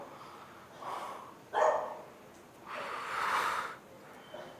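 A dog barks three times at a moderate distance in a quiet outdoor setting, each bark short and separate, with a faint fourth yip at the end and no talk over it.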